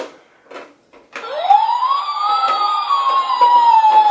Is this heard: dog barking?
no